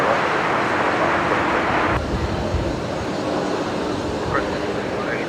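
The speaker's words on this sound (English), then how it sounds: "That's the Embraer Qantas 358 coming in from Hanira." A Qantas Embraer jet rumbles in to land at Brisbane Airport, a steady broad roar of engine and wind noise holding throughout with no quiet gaps, heard from a distance on a windy day.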